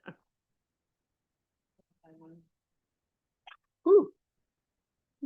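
A single sharp sneeze bursts out near the microphone in an otherwise quiet room, preceded by a few faint small sounds.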